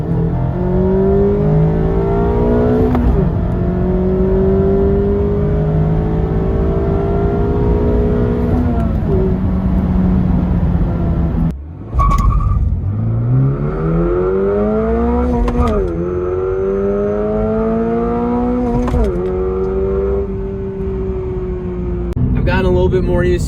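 A 2022 Subaru BRZ engine drones steadily with a buzzy, whining tone that rises and falls through gear changes while driving, loud and continuous throughout.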